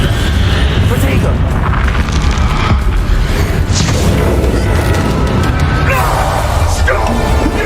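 Spell explosions from Bombarda and Confringo in Hogwarts Legacy, heavy booming blasts in a loud, continuous battle mix, with a voice speaking over them.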